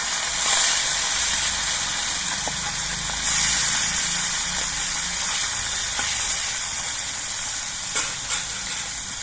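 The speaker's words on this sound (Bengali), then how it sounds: "তেলটা ভালো মতো গরম করে নেওয়া হয়েছে এবার এর মধ্যে মাছ দিয়ে আমি ভেজে নিচ্ছি" Mixed fresh Ganges river fish frying in well-heated oil, giving a steady, close broadband sizzle and hiss that runs throughout with a low rumbling undertone and occasional small pops.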